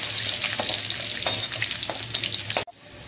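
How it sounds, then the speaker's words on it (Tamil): Garlic frying in a pan for paruppu urundai kuzhambu, a continuous close sizzle with repeated spatula scrapes that stops abruptly near the end, leaving quiet background hiss. "பூண்டை சேர்த்து நல்லா வதக்கிக்கலாம்."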